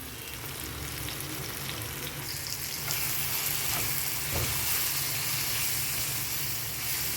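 Steady sizzling of kadai mushroom masala sautéing in a pan with chili and turmeric powder, a continuous close hiss with faint stirring scrapes and no talk.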